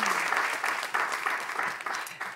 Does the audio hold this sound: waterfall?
no